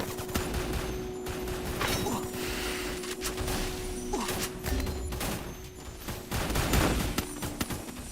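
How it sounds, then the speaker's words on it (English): Gunfire in the Free Fire battle royale game during a multi-squad fight, rapid bursts and scattered shots crackling over continuous game noise, fairly distant. "we see BJ start coming in with some headshots."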